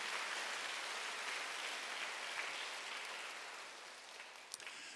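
A church congregation at a Wednesday worship service applauds, a faint, hissing wash of many hands clapping that slowly fades away, with a few louder claps near the end.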